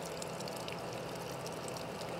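Cold water running steadily from a tap pipe at a mosque in Makkah, a continuous pouring splash that stays even and fairly loud throughout, with no voices.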